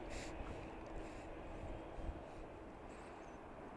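Airplanes operate at Dallas Love Field airport at night. A broad, steady jet engine rumble sounds from a distance and stays even in level throughout, with no talking.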